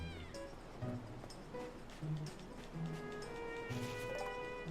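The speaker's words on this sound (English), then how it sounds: "I think they are actually meowing." Cartoonish cats meowing in the video game Little Dragon's Cafe, several short mewing calls repeating over a busy bed of game music and ambient sound.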